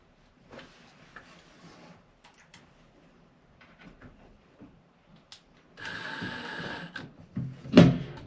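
A power screwdriver driving screws into a drywall access panel, heard as a single sustained whirring burst after quiet handling taps, then a loud clunk.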